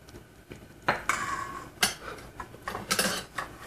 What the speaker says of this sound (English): We're gonna mix all these dry ingredients in the shrimp so we can marinate shrimp.